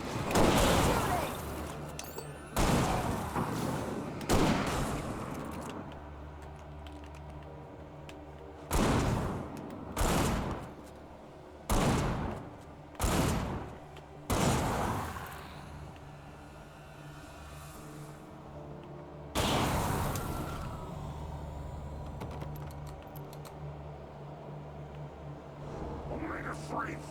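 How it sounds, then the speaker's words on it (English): Gunfire in the Alan Wake video game comes as loud, sharp bursts of shots in rapid clusters, followed by a run of evenly spaced single shots and another late burst, set against a low rumbling backdrop. "Keep shooting!"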